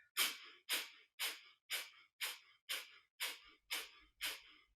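Rapid, rhythmic panting breaths from a Kundalini yoga breathing exercise, about nine sharp exhales at an even pace, close and clear, with no talking.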